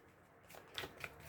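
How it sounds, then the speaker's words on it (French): Tarot cards being shuffled and drawn for a reading, heard as a few soft, close papery riffles and flicks in a quiet room. "Je vais faire un tirage."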